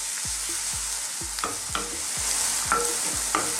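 Shrimp pasta ingredients frying and being stirred in a pan, a steady close sizzle with repeated scraping strokes of a utensil against the pan at a fairly even rhythm, no talking.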